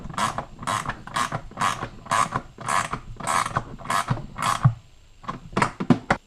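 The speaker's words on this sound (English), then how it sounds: "so just a matter of bolting that in place now" Ratcheting as a bolt is tightened to fix an aluminium anti-rotation rib on a home-made honey extractor, a close run of about a dozen regular clicking strokes followed by a few quicker ones.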